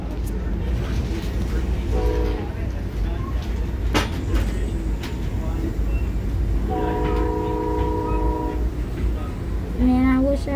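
An Amtrak Coast Starlight train sounds several horn blasts over steady rail rumble: one short burst, then a longer sustained blast, then another brief honk near the end, heard from trackside.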